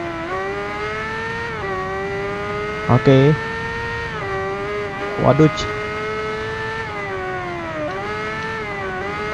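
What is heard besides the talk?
Kawasaki Ninja ZX10R motorcycle revving with stock exhaust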